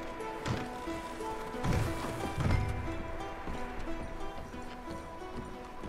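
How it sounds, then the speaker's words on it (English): Horse hoofbeats clop in an old western video game, a handful of uneven thuds under faint ambient tones, moderately close and fairly quiet without speech. "Micah, go bring the horses closer to the house."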